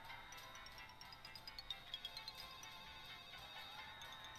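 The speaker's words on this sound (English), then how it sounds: "that's the phone from The Sims." In the video game Harvester, a phone that resembles the one in The Sims rings faintly, a run of quick electronic trills over a low background hum.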